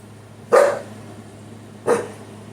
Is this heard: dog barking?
yes